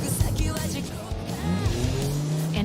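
A car takes off in a movie scene with tires squealing and the engine revving hard, loud and busy over score and effects, with brief voice-like sounds mixed in.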